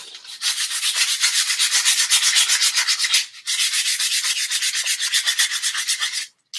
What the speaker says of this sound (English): Do a light sanding on the handle just to smooth it out a bit.